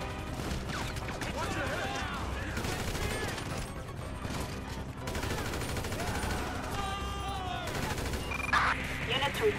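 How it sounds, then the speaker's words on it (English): Gunfire during a GTA V five-star police chase: dense, sustained rapid shots and bursts, loud and close, layered with crashes, engine and siren noise, and radio dispatch chatter. "Shots fired at an officer on Morningwood Boulevard"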